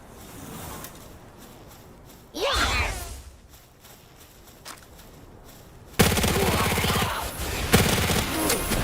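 Submachine gun fire in the Palworld video game, with a short burst near the start and then a sustained, loud stretch of rapid shots that carries to the end.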